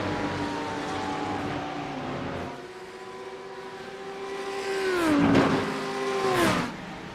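Racing engines of an Audi V10 and Porsche GT3 cars in a GT3 racing video game, steady engine tones shifting pitch with gear changes and a louder pass of rising and falling revs near the end.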